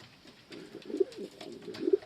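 Strasser pigeons coo softly in a loft, a few low, rounded calls rolling in short bursts, quiet and close with a faint background hiss.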